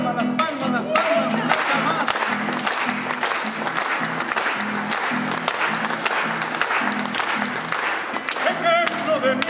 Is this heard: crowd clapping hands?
yes